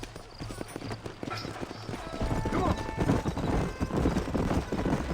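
Horse hooves clip-clop at a steady walking rhythm in the western video game Red Dead Redemption, with a neigh breaking in over the footfalls and the pace building toward the end.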